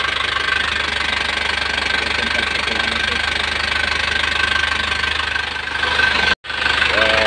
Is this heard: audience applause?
no